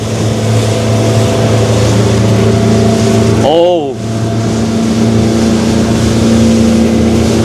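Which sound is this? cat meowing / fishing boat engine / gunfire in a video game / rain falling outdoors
fishing boat engine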